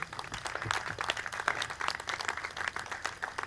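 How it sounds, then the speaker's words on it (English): Audience applause at a historic mural dedication in Fairbury, a steady wash of clapping from a crowd, moderately loud and continuous without talk. "I'd like to give a round of applause"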